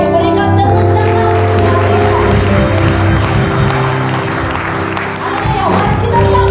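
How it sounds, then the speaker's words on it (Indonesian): A congregation at a Christmas church service applauds, loud dense clapping and crowd noise washing over sustained music that plays throughout. "Saya rindu sekali lagi berikan tepuk tangan."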